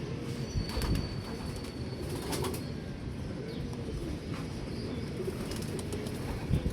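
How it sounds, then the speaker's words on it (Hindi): Pet pigeons cooing steadily at close range, with a few brief bursts of wing flapping and faint chirps from other birds in the background. "2 परिंदे हमारे बैठे हैं जी"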